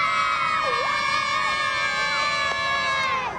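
Surf fans on the beach at the Margaret River Pro surfing contest in Western Australia keep up sustained cheering, with rising and falling whoops and shouts over a constant crowd roar.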